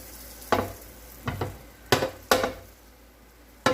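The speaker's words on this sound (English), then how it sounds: "Make sure that butter is nice and melted" Butter melts and sizzles in a pan for a Salisbury steak with mushrooms and red onions, a steady frying hiss broken by several sharp clattering stirs of a utensil against the pan.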